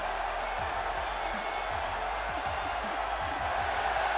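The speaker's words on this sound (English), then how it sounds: "And again, the crowd erupts." Wrestling arena crowd in WWE 2K17 at an Extreme Rules event, a steady wall of cheering and roaring fans holding at even loudness throughout, with low thumps underneath.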